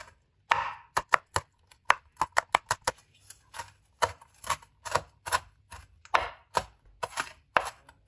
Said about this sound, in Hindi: चॉपर में डाल के चॉप कर ले